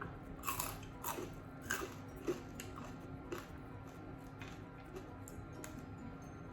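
Someone crunches crispy pork rinds alongside som tam, a Thai papaya salad, with repeated close, soft bites and chewing sounds over a faint steady background hum.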